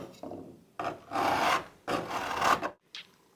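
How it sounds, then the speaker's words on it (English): A hand file rasps across rough metal edges during a hood pin installation on a car, making three long, close scraping strokes followed by a brief final stroke, with no voices. "we'll just take our hand file, we'll smooth off these rough edges"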